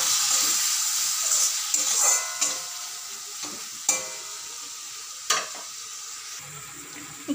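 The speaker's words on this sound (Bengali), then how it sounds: "এবার একটু জল দিয়ে সব মশলা ভালো করে কষিয়ে নেব।" Spices for a hilsa fish curry fry with a splash of water in a pan, giving a loud continuous sizzle broken by several sharp scrapes of a spoon stirring the paste.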